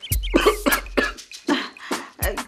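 A boy coughs in a series of harsh, close bursts, about six or seven fits spaced irregularly with short gaps between them.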